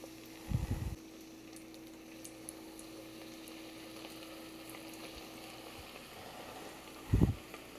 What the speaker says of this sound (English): we're gonna put it in our oil and we're gonna cook it 2 minutes on each side